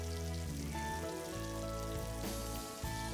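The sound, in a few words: breaded pork chop frying in hot oil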